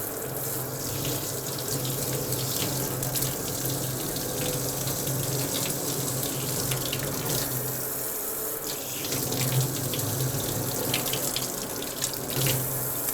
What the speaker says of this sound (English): And turn off the scrub sink.